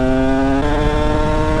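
A Yamaha DTR 125 two-stroke motorcycle engine revs hard and steadily, close and loud, with a continuous buzzing tone that shifts in pitch partway through as it pulls along a straight.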